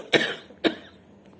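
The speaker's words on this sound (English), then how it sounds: "Sorry, I'm still coughing quite badly" Three short, harsh coughs from a recovering Covid-19 patient, close up and evenly spaced, with no talking in between.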